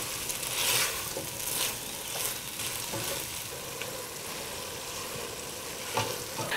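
Rice and wine cooking in a pan for risotto, a steady close sizzle with occasional scraping stirs and soft clinks, no voices.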